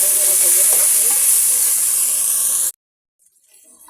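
Onion and ginger-garlic paste fry for pulao with a loud, bright, steady hiss close by, which cuts off abruptly near the end and leaves near silence with faint clatter.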